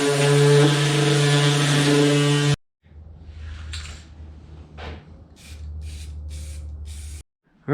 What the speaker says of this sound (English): I just spray painted it black